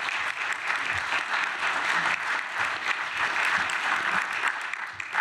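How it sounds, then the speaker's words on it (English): An audience at a talk on innovation and retrofit breaks into dense, sustained clapping that fills the room for about five seconds. "Round of applause,"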